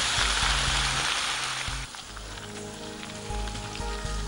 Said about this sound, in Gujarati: આદુ અને લસણની કચાશ છે એ પ્રોપર દૂર થાય ત્યાં સુધી એને હલાવવાનું છે અને સંતળાવા દેવાનું છે.